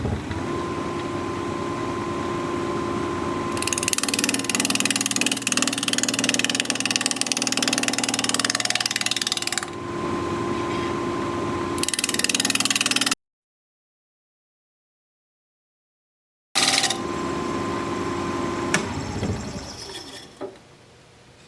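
Wood lathe spinning at 1200 RPM while a 5/8 inch bowl gouge cuts a live-edge mulberry bowl, a steady motor hum beneath long harsh scraping cuts, stopping for a silent gap and then resuming; no talking.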